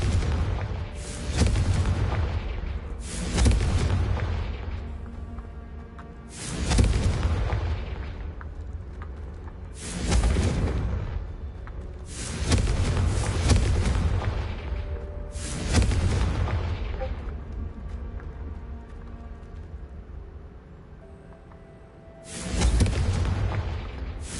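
Series of heavy explosions from the Confringo fire spell in Hogwarts Legacy: about seven loud, booming blasts at irregular intervals, each with a sharp onset and a rumbling decay, with no speech between them.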